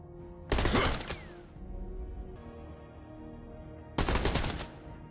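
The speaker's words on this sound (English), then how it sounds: "His first skill, called Quick Draw, which he fires 5 bullets in a fan shape" Quick Draw skill of Clint in the Mobile Legends video game, firing five bullets in a fan: two loud, sharp rapid-fire gunshot bursts about three seconds apart, with a softer game hum between.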